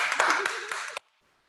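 An audience claps for someone speaker at a business presentation, a brisk burst of applause lasting about a second that stops abruptly into near silence.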